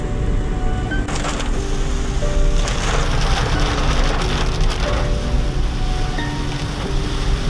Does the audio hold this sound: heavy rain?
yes